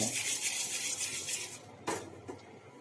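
Roasted chickpeas stirred in a pan at home, giving a steady close scrape and rustle of dry grains against metal, with a sharper clink near the end and no talking.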